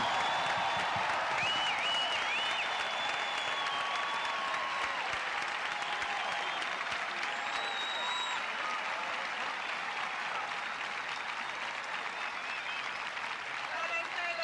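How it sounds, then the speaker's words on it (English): A large crowd gives sustained, steady applause at the Gay Games, a broad wash of clapping that continues the whole time at a fairly even level with a faint voice over it. "That's a really good crowd."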